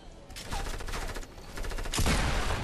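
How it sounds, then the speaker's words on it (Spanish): Hunting rifle gunfire in the Fortnite video game, heard as a dense burst of shots over game noise, with a louder, closer report near the end. "Hunting rifle."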